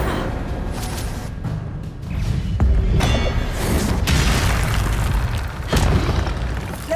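Hogwarts Legacy spellcasting, Incendio fire blasts and Levioso lifts, heard as a run of booming bursts and thuds over steady combat ambience, with several sharp impacts spaced a second or two apart.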